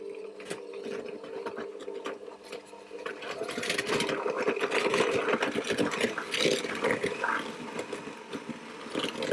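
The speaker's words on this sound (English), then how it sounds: "I'm going to whisk that together with my hand mixer until it's pale and fluffy" An electric hand mixer whisks butter and sugar in a bowl for Christmas oat biscuits, giving a steady, close motor whir with rattling beater clatter that grows busier partway through, with no speech.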